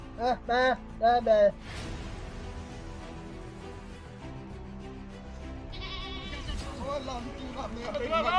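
A goat bleats several times in quick succession up close, then gives way to a steady background din with people talking.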